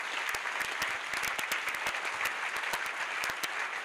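A church crusade congregation claps loudly and steadily, many hands in dense rhythmic applause filling the room with no talk over it.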